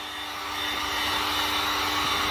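Heat gun blowing hot air over a foggy, cloudy clear coat, a steady close whooshing roar with a constant motor whine that builds slightly and holds throughout.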